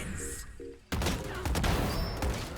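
Gunfire rings out in a Valorant firefight: a burst of shots breaks suddenly after a quiet moment, followed by dense overlapping shots and impacts, heard under talk.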